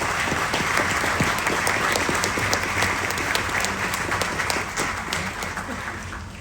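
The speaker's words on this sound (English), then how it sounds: "Let's give them a round of applause" Sustained applause from a crowd gathered at a hotel groundbreaking ceremony, dense steady clapping at full strength that fades slightly toward the end.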